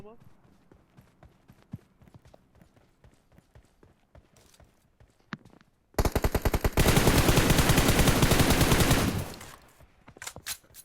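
Automatic gunfire in the mobile battle royale game PUBG Mobile; scattered single shots and footsteps give way to a loud sustained burst of rapid fire lasting a few seconds, with further shots after.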